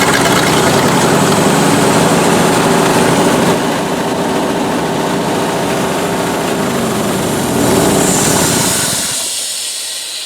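An old Ford F600 dump truck with a vacuum leak and a failing fuel pump runs loud and rough nearby, its engine roaring steadily, then surging before shutting off and fading.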